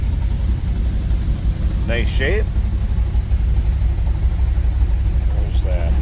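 A 1970 Dodge Challenger R/T SE with a 440 Six-Pack V8 and stock exhaust idles while warming up, a steady deep low rumble throughout, with someone briefly speaking over it.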